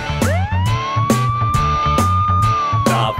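Police car siren in a children's song, a wailing tone rising and holding over a bouncy musical backing with rhythmic percussion hits.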